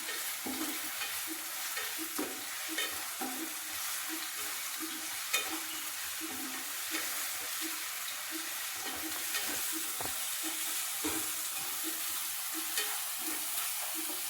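Ginger-garlic paste stirred into fried onion and tomato for paneer bhurji, a spoon scraping and turning through the pan in repeated strokes over a soft continuous sizzle, close and fairly quiet, with no voices.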